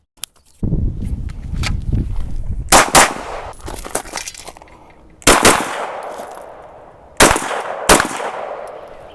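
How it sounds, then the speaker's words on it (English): A Canik pistol fires Monarch steel-case 9mm at a shooting range: several sharp, loud, close shots, some in quick pairs, each ringing off and decaying in the gaps between them. "Today, for the first time ever, I'm shooting this Monarch steel case 9mm."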